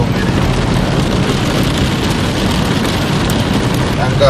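Heavy rain in the Beşparmak mountains of Cyprus makes a dense, loud, continuous roar and patter, close by and unbroken throughout.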